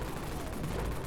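Avalanche MG14 gun firing in the Dead Frontier video game, a dense, rapid burst of loud automatic shots packed together over about a second.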